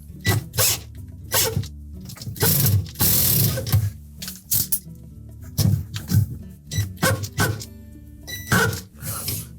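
A ratchet clicks in quick repeated bursts while a 1/4-inch screw is worked loose from a pump impeller, loud and close, with short pauses between strokes.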